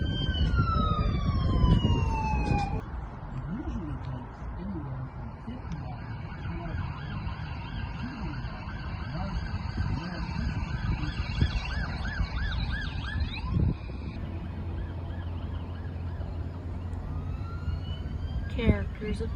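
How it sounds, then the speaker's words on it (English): Wailing sirens from a passing parade of emergency vehicles — fire truck, ambulance and police car — at a nighttime pumpkin event in Milton, Ontario, with rising and falling tones and a horn blast, sustained throughout under distant crowd chatter. "Thank you to our emergency services, fire truck, ambulance, and police car."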